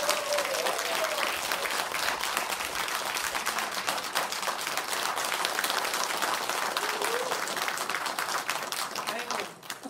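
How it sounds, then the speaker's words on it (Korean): A Korean concert audience gives steady, full applause to welcome a pansori singer before a Simcheongga performance, sustained clapping throughout with a faint voice and brief calls mixed in. "힘찬 박수로 모시도록 하겠습니다."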